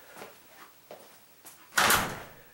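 A self-closing door on an adjusted hinge swings shut with a short, fairly loud closing sound near the end, after a few light soft knocks; no one talks.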